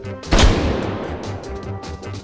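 A single loud, close blast from a shotgun firing a 3-gauge shell in the VR game H3VR, with a sharp crack followed by a short rumbling decay, heard alone.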